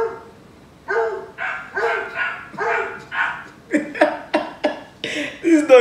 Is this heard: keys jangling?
no